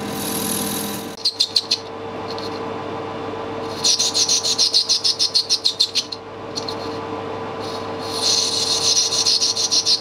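Rhythmic rasping strokes of a file or cutting tool chamfering the internal thread of a nut, coming in short bursts with brief pauses, close and fairly loud.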